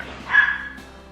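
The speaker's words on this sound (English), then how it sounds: "My dogs are going crazy." A dog gives a single sharp bark, close and fairly loud, then fades into quiet room background.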